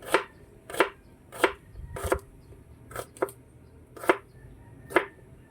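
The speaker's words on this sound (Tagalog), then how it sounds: "Ganyan lang magayat ng sibuyas." Knife chopping through an onion on a cutting board, eight crisp, evenly spaced cuts at close range with a slight pause midway, no talking.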